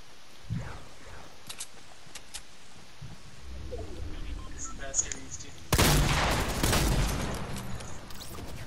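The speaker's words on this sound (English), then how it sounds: "This guy tried to minigun me." A minigun in a shooter video game, likely fired by a Heavy, unleashes a loud, dense sustained burst in the second half, preceded by scattered quieter shots and game noise, with voices talking over parts of it.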